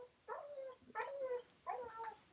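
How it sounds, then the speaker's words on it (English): A dog whines in three drawn-out, high, wavering bursts, each close and fairly clear over a quiet background with brief gaps between them. "Oh, I got a whiny dog here."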